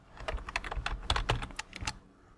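A flurry of crisp computer keyboard key presses, close and clear, a quick irregular run of taps lasting about two seconds with no talking.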